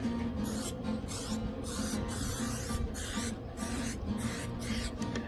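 Butter spray from a can is sprayed onto a small whole chicken before it goes on a pellet grill, as a run of close hissing bursts with short gaps between them.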